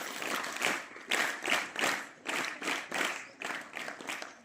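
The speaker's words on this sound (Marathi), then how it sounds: "ह्याचे उत्तर बरोबर आहे. ह्याच्यासाठी 3 टाळ्या वाजवा." A group of children in a school assembly claps in short, even bursts that repeat in a steady rhythm, fairly close and moderately loud.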